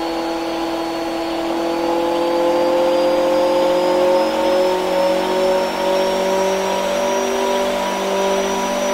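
A roughly 3700 bhp high-horsepower engine revs steadily up through its range with a loud, close, sustained whine and a slowly rising pitch, running continuously with no talking.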